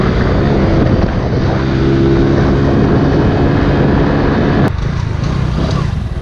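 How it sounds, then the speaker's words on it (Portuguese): A 2022 Honda Pop 110 motorcycle engine revs hard and close with a steady buzzing drone that drops off abruptly near the end. "Vou dar uma acelerinha aqui e já vou parar pra gente conversar"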